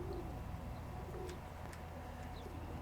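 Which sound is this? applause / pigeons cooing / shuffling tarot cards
pigeons cooing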